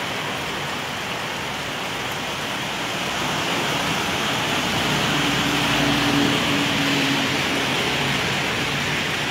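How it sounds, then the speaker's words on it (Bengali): Rain and wind lash Sylhet city during a night storm, a constant broad roaring hiss that swells slightly louder midway with a faint low hum underneath. "ঝড় তুফান হচ্ছে, বাতাস দিচ্ছে, পাশাপাশি আকাশে বিজলি চমকাচ্ছে।"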